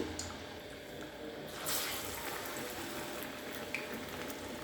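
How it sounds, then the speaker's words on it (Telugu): Vadas, lentil fritters, fry in hot oil with a dense, continuous crackling sizzle, steady and close throughout with a brief louder burst of bubbling partway through. "నూనె కాగిందనమాట ఇప్పుడు మనము వడలు వేసుకున్నాము"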